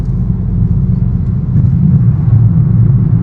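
A 2024 VW GTI accelerates on the road, its engine and tires giving a loud, steady low rumble from inside the cabin that swells slightly as speed builds.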